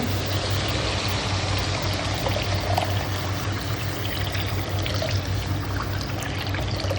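Hot water is poured into a pan of fish curry cooking on the stove, making a steady rushing, bubbling pour that continues close and evenly with no talk.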